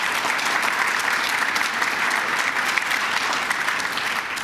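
Crowd at a governor's announcement event applauding steadily for several seconds, a dense, even wash of clapping with no break.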